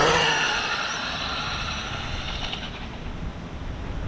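An HPI RS4 RC car launches on a drag run, its electric motor whining loudly at the start and then holding a steady, slightly fading buzz as the car pulls away over about four seconds, no voices.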